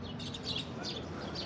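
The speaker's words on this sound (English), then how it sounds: "You got the birds chirping." Birds chirp outdoors on a warm, sunny day among shade trees, giving light, scattered high tweets that run steadily through the short stretch with no talking.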